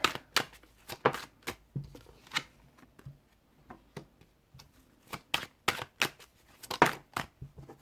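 Oracle cards are shuffled by hand in quick, irregular bursts of crisp riffling and slapping clicks, close and fairly quiet, with no talking.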